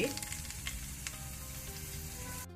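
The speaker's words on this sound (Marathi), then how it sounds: "तेल उण जालें म्हणटना एक लसूण दडोवन ताका घालची." Crushed garlic frying in hot coconut oil in a pan, a steady soft sizzle with faint crackles, quiet and close, no talking.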